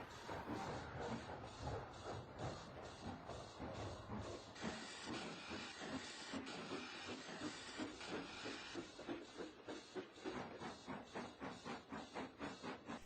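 Rhythmic chuffing of a steam engine, bursts of hiss repeating steadily and speeding up toward the end, with continuous steam noise underneath.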